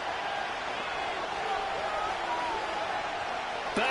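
A big home football stadium crowd roaring before a third-and-goal play, a steady broad wash of noise with a commentator talking over it.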